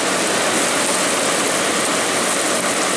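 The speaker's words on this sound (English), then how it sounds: "So anyway, here's the air compressor." Vintage GE air conditioner compressor running close by, a loud, steady broadband roar with no breaks and no voices.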